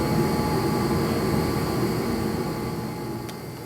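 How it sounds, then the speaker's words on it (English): A die grinder works on a carburetor fuel inlet, giving a loud, steady, high-speed whine and hiss that runs without a break and eases slightly toward the end. "For the uninitiated, that is a die grinder."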